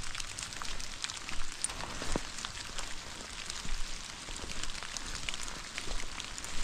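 Steady rain patters and hisses on surfaces, a continuous, fairly faint wash of drops with no voices.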